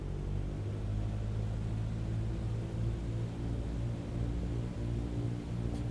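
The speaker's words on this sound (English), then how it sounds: "Hear the hum of that engine, dude." Aircraft engine in a flight simulator video game, a steady low droning hum with a tonal buzz holding evenly for several seconds, alone and without talk.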